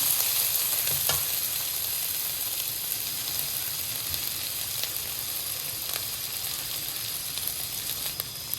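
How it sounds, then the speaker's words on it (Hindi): Garlic and ginger sizzling in hot oil with browned onions as the base for a dhaba-style daal mash, a steady close frying hiss broken by occasional scrapes of the stirring spoon. "अब इसमें लहसुन और अदरक डाल दें। अच्छी तरह मिक्स कर लें।"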